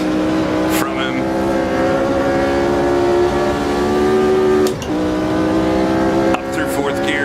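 A Brabham BT26 race car engine in Automobilista 2, a loud steady high-revving whine that drops with brief dips as it shifts up through the gears, with a voice talking over it.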